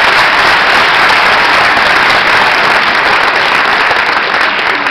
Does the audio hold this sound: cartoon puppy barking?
no